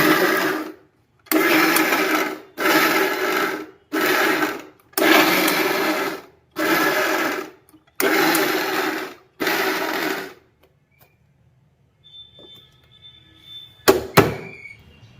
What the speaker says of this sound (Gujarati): અને આમ અને આમ ઝટકા મારીને ગ્રાઇન્ડ